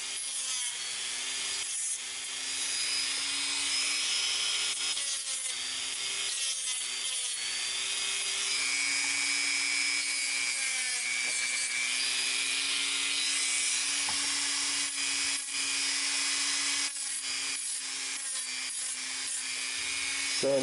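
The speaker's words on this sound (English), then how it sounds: "we're going to sand all these points off" A metal coin being shaped into an arrowhead is sanded to take off its points, a continuous rough scraping and rubbing that runs throughout over a steady machine hum, close and loud.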